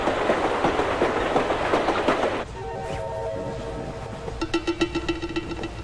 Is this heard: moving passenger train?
yes